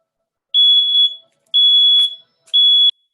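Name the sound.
alarm going off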